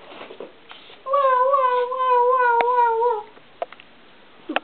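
A cat meows in a long, clear, drawn-out wail lasting about two seconds, close and alone, with a few faint knocks after it.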